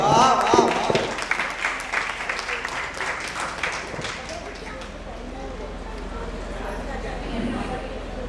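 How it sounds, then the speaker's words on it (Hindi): Audience applause at a devotional song performance, a dense round of clapping loudest at the start and gradually thinning, with a voice briefly heard near the beginning. "एक बार जोरदार तालियां हो जाए बहन जी दासी की।"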